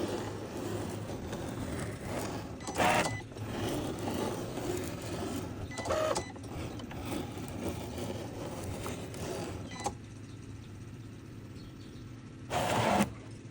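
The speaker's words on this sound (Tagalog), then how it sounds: "So atong gamit ko ay is Cricut atong machine, Cricut Explorer 3. So inana na siya mag-cut guys para sa gamay niya." A Cricut Explorer 3 cutting machine works on acrylic for a medal, giving a low steady mechanical hum with repeated short scraping bursts as the carriage moves, quiet and close, with no voices.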